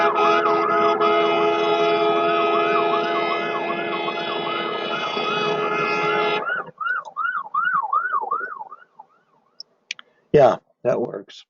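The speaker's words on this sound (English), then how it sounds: "I heard some crazy police sirens there too." Wailing police siren rises and falls in a steady cycle, loud and continuous for several seconds, then fades and cuts in and out as it breaks up, with a few short clicks and bursts near the end.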